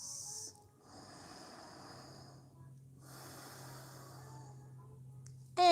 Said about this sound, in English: Fill your lungs completely. Long, deep breaths.